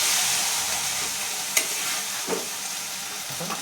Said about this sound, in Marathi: दोन मिनटं भाजूया, फ्राय करूया.